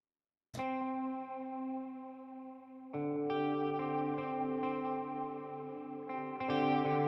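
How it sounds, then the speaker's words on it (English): A sustained synth chord from the Sonora Cinematic Aria library swells in with a bright attack, then new layered notes bloom in twice more, shimmering with chorus and long reverb tails. "some of these patches are like blooming sound effects"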